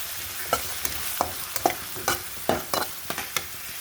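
Dried fish frying in a pan, with a low sizzle broken by a series of sharp, irregular stirring clacks and scrapes, each one close and distinct, and no voices.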